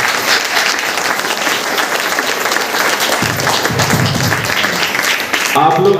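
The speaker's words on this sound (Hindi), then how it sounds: "श्री राम आशीष गुप्ता सर जी के लिए जोरदार ताली होगी।" Loud, sustained applause from a meeting audience greets a speaker, dense clapping throughout with some crowd noise and a brief voice near the end.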